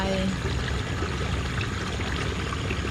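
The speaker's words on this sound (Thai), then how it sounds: "นี่ไงน้ำที่มันล้นน่ะ น้ำที่ล้นออกจากนา" Floodwater spilling out of a rice paddy after a storm, a steady, close rush of pouring water with no break.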